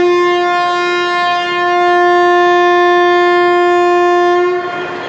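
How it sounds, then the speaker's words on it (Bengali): Horn of the 15661 Ranchi Kamakhya Express sounding at Malda station before departure, one loud steady tonal blast held for about four and a half seconds, close by, then cutting off. "ট্রেন সিগন্যাল দিয়ে দিল, ট্রেন স্টার্ট দিল মালদা জংশন থেকে"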